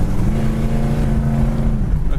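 A 1969 Plymouth Road Runner engine drones steadily and loudly, its pitch holding a low, throaty hum as the automatic transmission kicks down from third to second.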